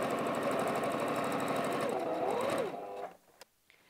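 A sewing machine top stitches a fabric tablet cover in a fast continuous run, slowing as it winds down and stopping, followed by a few small clicks and handling noises.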